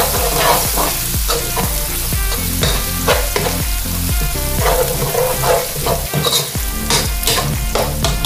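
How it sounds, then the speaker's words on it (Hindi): Spices, black pepper and garlic sizzle loudly in a pan for a lamb karahi, a dense frying crackle broken by rhythmic scraping stirs, close and continuous with no talking. "मसाले थोड़े से फ्राई हो गए"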